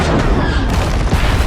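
A loud, heavy boom from a film's car chase, where vehicles collide and one explodes, with a dense low rumble that cuts off abruptly after about a second and a half.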